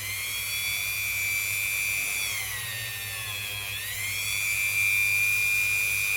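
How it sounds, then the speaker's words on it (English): A Dremel rotary tool spins against an Irish bronze penny with a continuous high-pitched whine that dips in pitch under load in the middle and then climbs back, steady and close. "we'll break out Dave the Dremel, the Kate Bush, and we'll give it a bit of a clean up."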